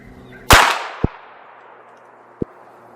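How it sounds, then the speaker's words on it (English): An FK BRNO PSD pistol in 7.5FK fires at an 80-yard target outdoors: one sharp, loud shot with a decaying tail, followed by two faint distant impact ticks. "Now I'm gonna go up to a pink target at 80 yards and I'm gonna shoot 5 at it."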